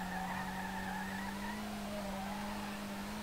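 Nissan R32 engine in the Street Legal Racing Redline video game, straining at a steady high pitch with a loud, continuous drone throughout, without any voices.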